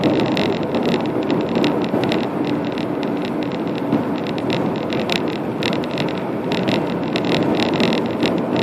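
A car driving at about 35 mph on a solid ice road in Wisconsin in winter, heard as constant close cabin rumble with wind noise and faint rattling, and no voices.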